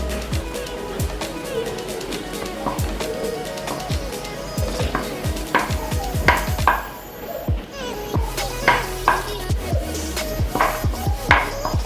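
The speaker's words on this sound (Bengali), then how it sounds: "গোল করে রুটি বেলে নিচ্ছি।" Round roti dough being rolled out on a board in a home kitchen, heard as repeated soft rhythmic knocks and rubbing taps from the rolling pin, fairly close and steady, with a few sharper clacks from utensils.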